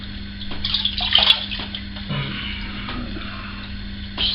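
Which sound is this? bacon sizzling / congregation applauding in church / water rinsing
water rinsing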